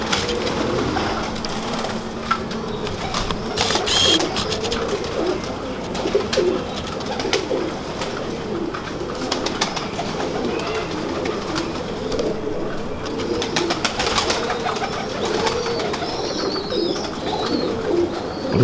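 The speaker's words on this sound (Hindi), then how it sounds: "जी फैसल भाई, मैं आपको अपने परवाने कबूतरों का शौक़ करवा रहा हूँ।" Pigeons coo repeatedly in low, rolling calls, with birds fluttering and some mechanical clatter in the background; no talking.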